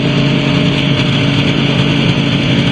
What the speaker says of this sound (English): I like to keep that engine up to about 25. Keeps it running smoother.